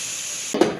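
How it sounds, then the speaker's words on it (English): Steam hisses out of a pressure cooker during release after cooking French onion soup, a steady loud rush that swells into a brief burst of sputtering near the end. "So the timer's gone off, so we will go ahead and release the steam"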